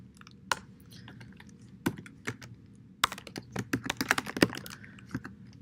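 Irregular keystrokes clatter on a computer keyboard as C++ code is typed, a quick run of sharp clicks with short pauses, close and fairly quiet, with no one speaking.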